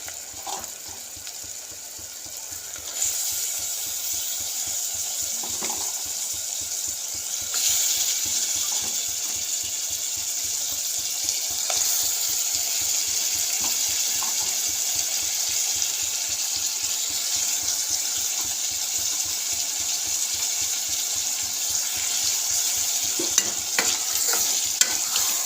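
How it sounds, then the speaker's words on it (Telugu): Goat tripe (boti) curry with turmeric frying in oil, a loud steady sizzle with repeated stirring and scraping strokes throughout, close and continuous with no talk. "కొంచెం బోటి నూనెలో ఫ్రై అయిందండి."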